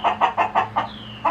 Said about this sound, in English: And there's a rooster outside here.